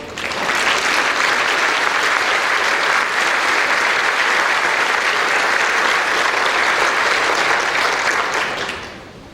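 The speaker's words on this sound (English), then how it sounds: "let us give you a round of applause" Sustained audience applause at a College of Dentistry graduation ceremony honoring dental students, a dense, even wash of clapping from a large crowd that holds steady for several seconds before fading at the end.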